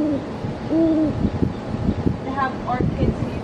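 Birds call in the garden of the Shangri-La The Marina hotel in Cairns, among plants, fruit trees and orchids near the pool. Several short hooting calls stand out over a steady outdoor background.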